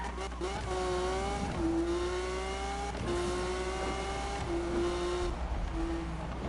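A car drives in the video game Need For Speed (2015), its engine a sustained droning whine that climbs and drops through gear shifts, steady and loud throughout.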